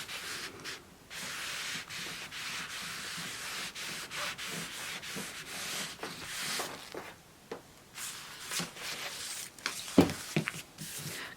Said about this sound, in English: And then I'm going to iron it.